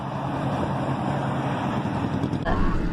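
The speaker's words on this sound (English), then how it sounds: "It's just a car." A car travels close behind on a road, its engine and tyre rumble forming a steady broadband drone with wind buffeting, swelling louder toward the end.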